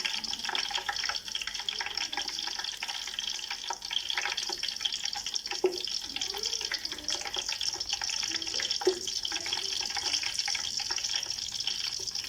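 Whole green chillies, with garlic, fry in hot oil, giving a steady, dense sizzle that hisses on evenly for the whole stretch without pause, with no talk over it.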